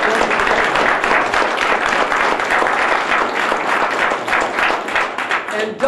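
An audience at a sheriff's office public meeting in Palm Desert applauds, a dense, loud, steady clapping from a crowd that lasts several seconds before tapering slightly.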